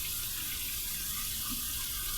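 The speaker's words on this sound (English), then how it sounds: "We're going to run this under some cold water" Cold tap water running steadily over an alum block at a sink, a continuous close hiss with a faint knock partway through.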